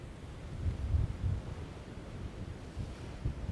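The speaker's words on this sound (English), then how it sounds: "Strong wind, pretty rough seas." Strong wind buffets the microphone over rough sea with swells near 2 metres, a steady low roar with surging gusts throughout and no talking.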